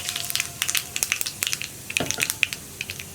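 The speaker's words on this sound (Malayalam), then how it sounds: "നമുക്കിതിലേക്ക് ഒരു 1/2 ടീസ്പൂൺ കടുക് ചേർത്ത് കൊടുക്കാം. കടുകൊന്ന് പൊട്ടി തുടങ്ങട്ടെ." Mustard and cumin seeds spluttering in hot coconut oil for a pumpkin curry make a steady scatter of small, sharp pops and crackles, close and moderately loud.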